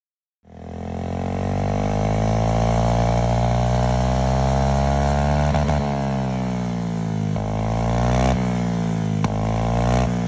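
A motorcycle engine starts and runs steadily, loud and close, with a throaty rumble that shifts slightly in pitch as it idles and revs.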